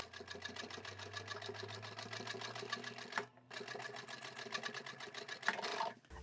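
A sewing machine runs steadily, stitching a crossbody sling bag. The even, rapid mechanical whir pauses briefly partway through and then resumes.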